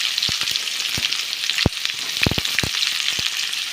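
Garlic and onions sizzle in hot oil with fenugreek seeds and fennel for a tank-fish curry, a constant close crackling hiss punctuated by sharp spattering pops, with no talk.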